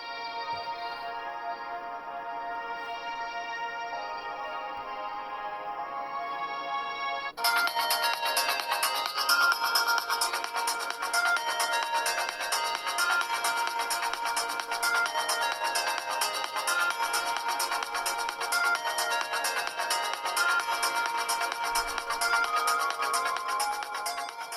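Audio playing from the bottom-firing speaker of a Nokia 4.2 smartphone: a steady melodic tone that grows brighter and fuller partway through, continuous and moderately loud, with no talking.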